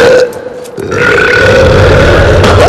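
A loud, long burp rumbles on for over two seconds with a strained, tonal quality, swelling after a brief dip and holding steady to the end, with no talking.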